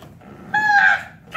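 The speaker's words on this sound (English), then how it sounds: "The jays screamed." A jay gives one harsh, tonal screech lasting about half a second, loud and close, with quiet background before and after.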